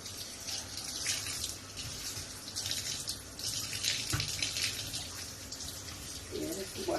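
Tap water runs steadily into a sink while fresh thyme and scallion are rinsed under it, a continuous close splashing with a voice heard briefly near the end.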